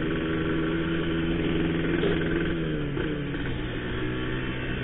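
A two-stroke motorcycle engine idles steadily while warming up, a continuous close droning rumble with a slight wobble and no talk.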